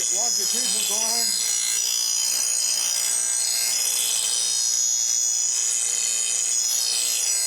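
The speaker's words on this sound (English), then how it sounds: "This is a long longitudinal grind." A small angle grinder makes a long longitudinal grind on steel while shaping a carpet removal tool, producing a steady, bright, hissing abrasive whine that runs unbroken and close throughout.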